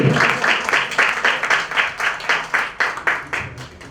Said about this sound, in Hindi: जोरदार ताली बजाए ना